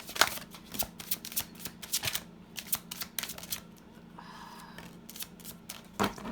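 Quick, crisp bursts of tarot cards being shuffled, riffled in irregular clusters with short pauses between, close and fairly quiet with no talking.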